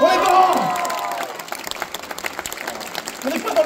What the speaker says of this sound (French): je vous demanderai un tonnerre d'applaudissements, s'il vous plaît